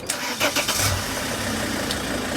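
A van's engine cranks and catches, a short burst of starter whir followed by a settling idle, close and fairly loud with no voices.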